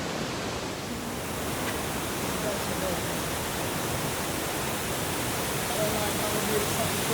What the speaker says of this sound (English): How's that for a waterfall?